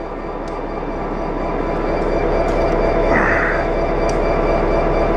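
A train rolls past at close range with a steady, loud rumbling roar of wheels and cars on rails, continuous throughout with faint squeals on top.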